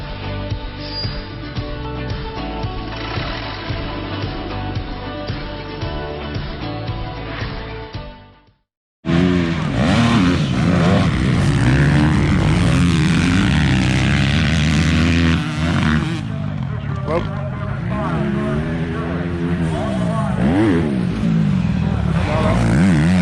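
Motocross motorcycles racing on a dirt track, their engines a loud continuous droning whine that rises and falls with throttle changes, after a brief cut, with one machine-heavy stretch before the break.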